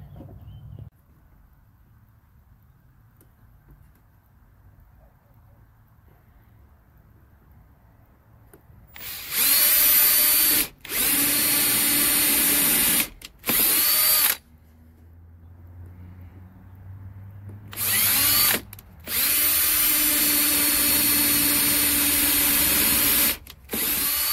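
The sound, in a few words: power drill drilling pilot holes in wood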